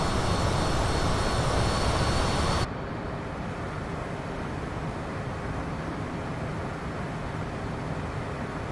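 A CJ4 business jet takes off in a flight simulator game, its engines giving a loud steady roar that drops abruptly to a lower, even whoosh and continues without a break.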